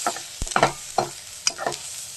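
Dal cooked with tomato and tamarind being stir-fried in a pan, with a few soft scraping stirs and light sizzling bursts spaced through a quiet background.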